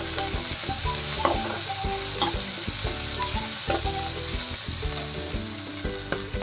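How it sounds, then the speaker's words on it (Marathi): Chili thecha frying in hot oil with curry leaves, a dense, steady, close sizzle with crackling spits, over a low tonal hum from the kitchen, with no voices. "हा ठेचा तेलामध्ये छान तळून घ्यायचा"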